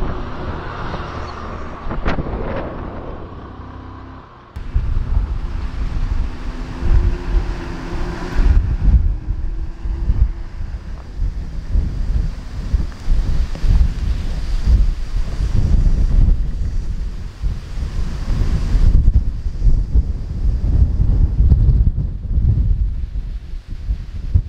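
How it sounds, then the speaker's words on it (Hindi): Strong wind buffets the microphone on the Gaganbawada mountain ghat, a continuous loud roar with gusty surges throughout and no talk. "क्या खतरनाक हवा आ रही है"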